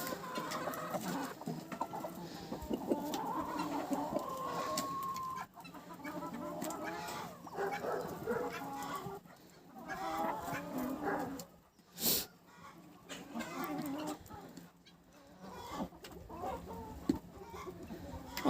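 Chickens cluck steadily while being fed in winter, with a rooster sitting nearby on the other side and a dog barking; someone talks over the birds throughout.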